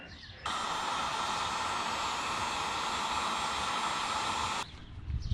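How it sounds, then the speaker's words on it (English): A heat gun blows hot air to loosen clamp parts on a water-fed pole, a steady, even rushing hiss that starts abruptly, holds for about four seconds close to the mic, then cuts off. "Definitely easier with the heat gun."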